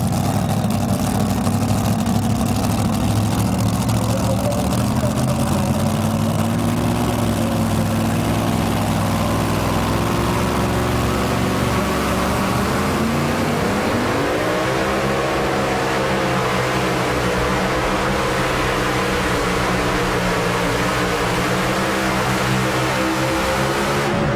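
A pulling truck called Full Throttle, driven by a defending world champion, idles and revs continuously throughout a 2007 truck pulling event at Goshen, Indiana, with a loud steady engine drone whose pitch climbs midway.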